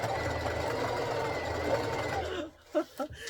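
A foot-powered treadle sewing machine runs steadily at home with a continuous mechanical whirr and rhythmic clatter, then slows into a few separate thumps as it stops.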